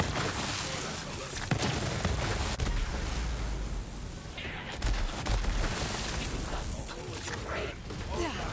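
Assault rifle gunfire in the video game Borderlands 3, dense and continuous with booming impacts and clatter throughout, layered under game effects and some voice activity.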